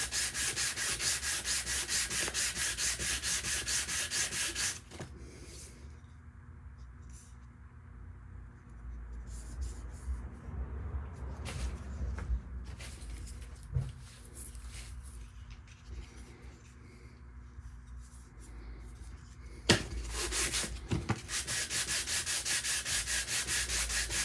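Aluminum bass guitar control plate being hand sanded to remove big scratches, a close scratchy rubbing in steady back-and-forth strokes, loud at the start and end with quieter, softer passes in between.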